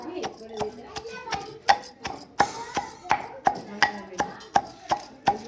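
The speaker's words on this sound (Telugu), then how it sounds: "జీలకర్ర, ఎల్లిగడ్డ, మిరపకాయలు అగ్గిలో కాల్చి దంచుతున్నాం" Fire-roasted cumin, garlic and green chilies pounded for raw tamarind rasam, with a dozen or so evenly spaced thuds in steady rhythm and a voice speaking over them.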